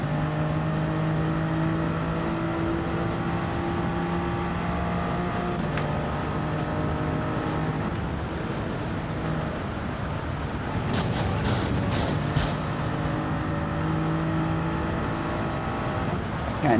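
Toyota Supra racing on intermediate tyres in Gran Turismo 7, a continuous loud engine whine shifting pitch through gear changes, with brief rattles and scrapes partway through.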